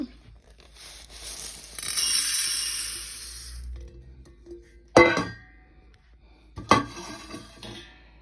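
Roasted green gram and moong dal poured into a VEVOR 1000 g electric grain grinder: about two seconds of dense, rattling pour, then two sharp, close clacks a couple of seconds apart, with no voices.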